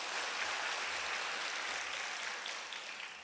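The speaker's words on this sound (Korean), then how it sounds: "하나님께 영광의 박수 올려드립니다" Steady wash of applause fills a church service after a choir's hymn, dense and continuous clapping from a congregation, fairly distant and even, fading slightly near the end.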